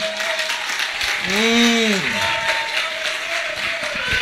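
A church congregation applauds during a sermon, a steady wash of clapping running through the whole stretch beneath a voice, with a brief tonal swell near the middle.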